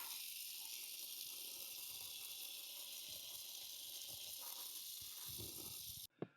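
A garden hose rinses all-purpose cleaner off a surface, producing a steady broadband hiss of spraying water that runs for several seconds before cutting off abruptly near the end.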